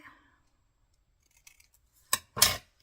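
Scissors cutting paper for a paper craft project: a few faint clicks, then two crisp, close snips near the end, the last one longest.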